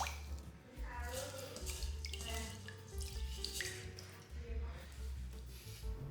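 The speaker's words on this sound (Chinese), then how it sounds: "首先准备一个盆，把米给洗一洗" Rice being washed by hand in a basin of water, continuous close sloshing and trickling with soft squishes and swirls.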